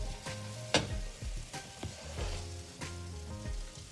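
Egg mixture cooking in a pan for a street-style rolled egg, with a soft, steady sizzle and a few sharp clicks and taps of a utensil against the pan.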